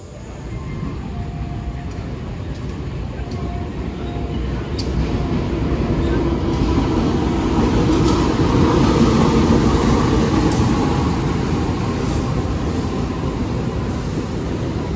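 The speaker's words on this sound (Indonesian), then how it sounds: "Kereta api Mutiara Timur tiba di jalur 2." The Mutiara Timur passenger train, hauled by a locomotive, rolls into platform 2 at Jember station with a loud, steady rumble that swells midway and holds, while a high whine runs over the first half.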